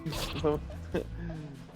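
Bleating from the sheep weapon in the video game Worms W.M.D, two short wavering bleats heard close up with people talking over them.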